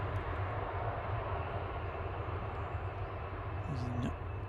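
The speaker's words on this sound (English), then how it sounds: "Using a lot of reverse thrust, although to be fair, they tend to do that quite a lot in the early mornings" An airliner landing at Manchester Airport on heavy reverse thrust, a steady distant jet roar with a faint whine above it, heard from afar at low volume.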